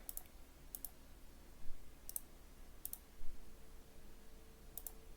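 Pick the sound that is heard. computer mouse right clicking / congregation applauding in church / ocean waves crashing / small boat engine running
computer mouse right clicking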